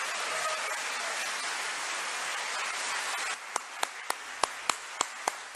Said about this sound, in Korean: 여러분 다 같이 참부모님에게 큰 영광 모든 영광을 돌리면서 참부모님에게 큰 박수를 올리겠습니다.